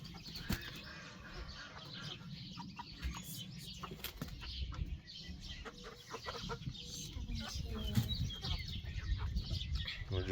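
Brahma and Rhode Island Red chickens being moved into a coop cluck and murmur nearby, with bursts of wing flapping and scuffling amid low background noise.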